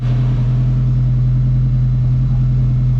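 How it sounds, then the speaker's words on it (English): A neighbor's car drives past outdoors, a steady low engine rumble with a strong constant hum holding level for the full few seconds, no talking. "One of the neighbors drove by."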